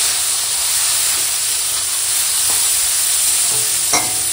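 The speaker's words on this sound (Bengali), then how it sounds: "তো এখন একটু উচ্ছে আলু ভেজে নেবো" Loud, steady hissing sizzle of bitter gourd and potatoes frying in hot oil, close up, with a few faint clinks of a utensil near the end.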